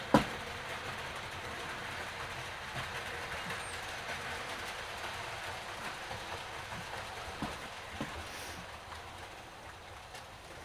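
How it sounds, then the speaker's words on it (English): A model train runs slowly around a corner of a layout, giving a steady, faint rumbling clatter with small clicks, heard alone over a low background hum. "Oh, that train's on a go slow going around the corner."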